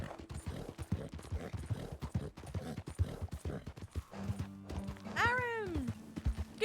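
Rhythmic hoof clip-clop from a horse in a Western-style video game, steady and fairly close under continuous chatty talk, with a short whinny near the end.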